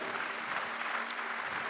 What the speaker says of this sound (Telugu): చప్పట్లు కొట్టాలంతా.